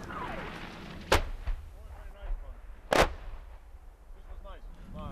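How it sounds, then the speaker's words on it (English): Artillery shells land in a combat game against the Taliban, two sharp distant impacts about two seconds apart over faint background rumble and scattered noise, with a voice speaking in between. "The artillery shells begin to land"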